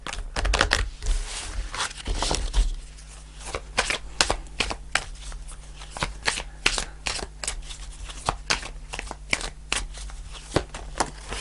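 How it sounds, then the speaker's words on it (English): A tarot deck is shuffled by hand in a long stretch of crisp riffling and flicking card sounds, close up and continuous, with no talking. "I'm going to just pull a final card to finish off the reading."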